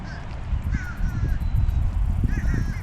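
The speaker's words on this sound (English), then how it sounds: "Look at all those birds over there." Several birds by the water give harsh, squawking calls in short bursts, some overlapping, over a low rumbling outdoor background.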